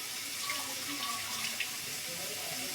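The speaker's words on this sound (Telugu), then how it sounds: "పన్నీరు కొన్ని వాటర్ వేసి ఫస్ట్ అయితే కడుగుతూ ఉన్నాము" Soft paneer is rinsed in water, giving a steady running-water rush like a tap filling a bowl, close and continuous with a few faint splashes and no talking.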